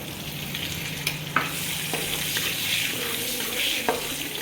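Semolina toasting in ghee in a pan over a very low gas flame for moong dal halwa, giving a steady soft sizzle with a few light spoon clicks and stirring scrapes, close and even throughout.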